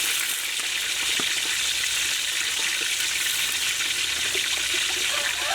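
Pig leg with pickled mustard greens cooks in a pan just after water is poured in, making a dense, steady hiss and bubbling that stays loud and unbroken throughout.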